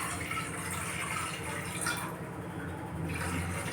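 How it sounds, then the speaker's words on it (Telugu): About a glass of water poured into a cooking pan for kofta, giving a steady splashing, gurgling rush close by with no talk. "1 గ్లాస్ వరకు నీళ్ళు వేసుకోవాలి"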